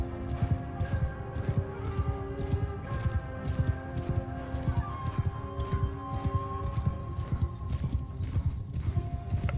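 Horse hooves galloping while riding in the video game Bannerlord, a fast continuous clip-clop rhythm, loud and close, with occasional whinnies and faint tonal background sounds.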